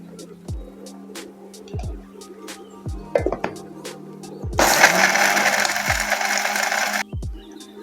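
Loud whirring burst of an electric grinder grinding roasted spices for a few seconds, with sharp knocks and taps before and after it.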